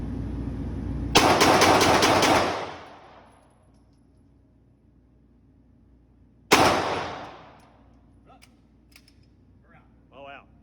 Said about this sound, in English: immediately pick up the CZ and shoot that